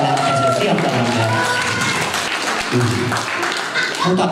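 An outdoor festival audience claps for a young boy in a Spider-Man costume, a dense wash of applause mixed with crowd chatter and a voice talking through it.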